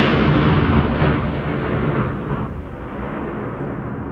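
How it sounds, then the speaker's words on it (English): A single powerful explosion set off in a quiet, open desert early in the morning, loud and booming from the first instant, then ringing off and decaying slowly over several seconds. "lets you record the natural ring-off and decay of the explosions"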